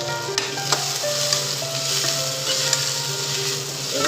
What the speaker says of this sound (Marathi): ते पण आपण थोडा वेळ परतून घेऊ